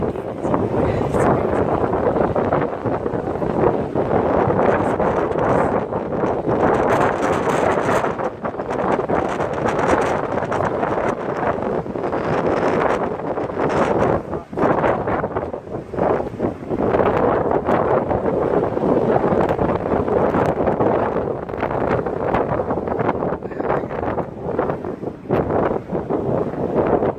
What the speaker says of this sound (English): I can't even tell you how windy it is.